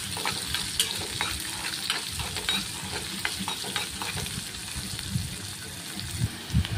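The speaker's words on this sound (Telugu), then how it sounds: "బాగా దోరగా వేగనివ్వాలండి." Onions fry in a pan for stuffed brinjal curry, giving a continuous close sizzle with stirring clinks and bubbling throughout.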